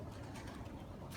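A pigeon gives a brief, low, muffled coo against a dense noisy outdoor background, fairly close and with no talking.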